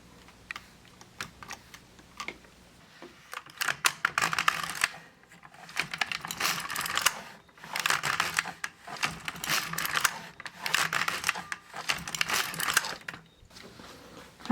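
Bursts of clattery mechanical clicking and rattling from an LK150 knitting machine as the carriage is pushed across the bed to knit rows of E-wrap cast-on stitches, repeating in uneven passes with short pauses between them and no talk.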